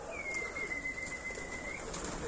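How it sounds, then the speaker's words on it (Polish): A flock of about 220 pigeons on a training flight, with bird calls and a steady, thin, whistle-like tone held for almost two seconds over a constant outdoor hiss. "Oblatunek gołębi."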